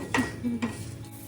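Thin papad fries in ghee in a home kitchen with a soft sizzle, while a utensil stirs and scrapes against the pan in two quick clattering strokes.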